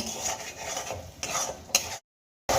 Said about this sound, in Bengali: এবার এই সমস্ত মশলা আমি খুব ভালো করে কষিয়ে নেব